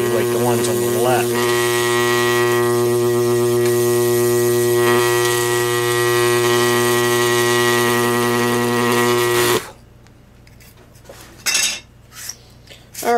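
Fischer carbon arc lamp burning on lamp carbons, a loud steady hum with many stacked tonal harmonics sustained for about ten seconds, then cutting off abruptly, leaving quiet room sound with a few brief clatters.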